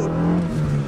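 A Honda car accelerating hard during a pull, its engine droning in a steady low tone that shifts pitch partway through, close and fairly loud.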